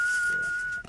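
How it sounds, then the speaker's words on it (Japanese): A single sustained mouth whistle holds one clear, steady high note for most of a second before breaking off, loud and close in a radio studio. "なんかまた口笛って。"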